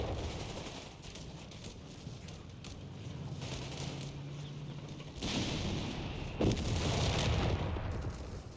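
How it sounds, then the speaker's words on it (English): Artillery fire in a Company of Heroes 3 battle, a steady rumbling din of distant shelling and gunfire, with heavier booming impacts swelling louder in the final few seconds. "Artillery as well forces it back, thanks to the captain's artillery ability."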